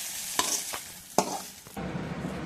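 Onions and green chillies sautéing in hot oil for adai dosa batter, a steady sizzle broken by a few sharp stirring scrapes, close and moderately loud with no talk.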